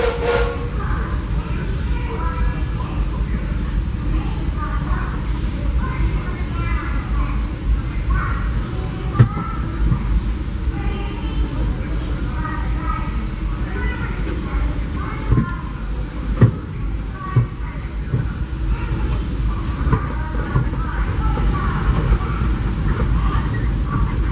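Disneyland Railroad steam train with locomotive Ernest S. Marsh #4 pulling away, a steady low rumble and rolling clatter with faint hissing and a few sharp clanks, heard from aboard a passenger car with voices in the background.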